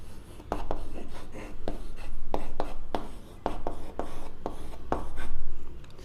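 Chalk or pen scratching out a maths equation by hand on a board, a series of quick, close strokes in bursts with short pauses between them, no voices.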